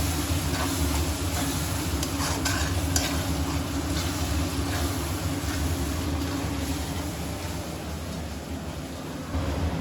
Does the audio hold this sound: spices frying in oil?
yes